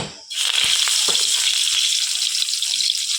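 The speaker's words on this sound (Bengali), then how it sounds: "কড়াতে দিচ্ছি তেল তেলের উপর দেবো তেজপাতা" A bay leaf drops into hot oil in a wok and a bright, hissing sizzle starts abruptly and holds steady, close and fairly loud, with a few faint clicks beneath.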